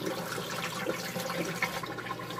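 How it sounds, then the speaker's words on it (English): A Haier XQBM22-C compact portable washer drains water in a steady gurgling, splashing rush that stays even in loudness, heard close. "Yeah, folks, it's dumping the water for some reason."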